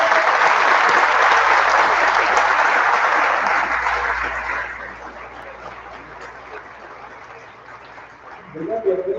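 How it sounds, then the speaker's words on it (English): Loud audience applause at a graduation ceremony in Bristol, honouring the graduates' families; a dense burst of clapping that thins and fades over several seconds, with a brief murmur of voices near the end. "let's give a round of applause for all the families"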